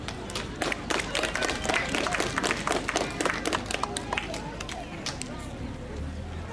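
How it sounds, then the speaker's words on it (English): A crowd at an anniversary ceremony for a charity helping African children claps steadily, a dense patter of many hands that stays loud and continuous, then thins slightly toward the end. "May everyone make some applause, some hands of applause to Dr. Kim."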